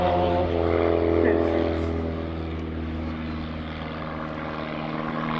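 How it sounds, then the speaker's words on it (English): A propeller airplane in an airshow comedy act drones loudly overhead, its steady engine tone shifting slightly as it passes, with distant crowd and announcer sounds faint beneath. "Come on, Hobie, straighten that airplane out."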